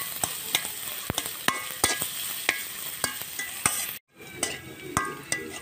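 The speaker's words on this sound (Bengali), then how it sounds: "এখন সবগুলো আমি লাল লাল করে ভেজে নেব।" Chopped onions and minced garlic fry in hot oil until browned. A steady sizzle runs under sharp, regular stirring scrapes and clinks about every half second, with a brief break near the end.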